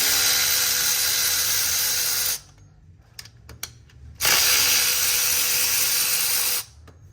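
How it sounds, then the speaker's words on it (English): A power tool zips loose the 10 mm bolts of a transfer case actuator on a 6.7 Cummins truck, two long, loud buzzing runs separated by a pause filled with brief clicks and clanks. "I'm actually gonna go on and unbolt this actuator and get it out of the way"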